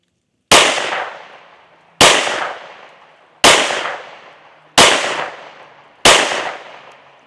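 Five loud pistol shots from a Springfield Armory Echelon 4.0C firing defensive ammunition at a target, each sharp crack followed by a decaying echo, evenly spaced about one and a half seconds apart, with no talk.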